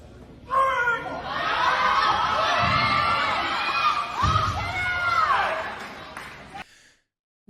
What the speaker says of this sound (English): you hear all these women cheering this biological man on